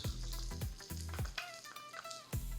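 Chopped onion, one large one, dropped into a hot pan for zunka, hissing and crackling steadily with a few sharp knocks of a spoon or pan near the start and end.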